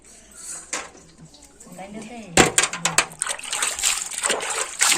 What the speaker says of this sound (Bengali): নোংরা হয়ে আছে একদম ডিমগুলো ধুয়ে নিই